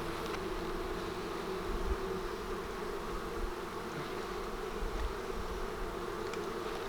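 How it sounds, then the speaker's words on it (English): A steady, dense buzzing of many honey bees swarming close by around a hive during swarm season, a continuous droning hum with no voices. "Boy, we got some bees."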